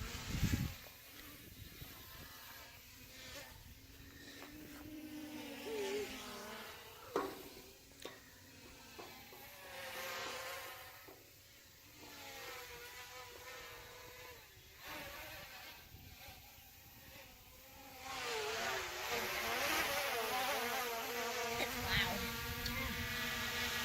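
A small quadcopter drone flies outdoors in Cedar Glades Park, giving a steady, insect-like buzzing whine that wavers in pitch as it maneuvers, with faint voices now and then.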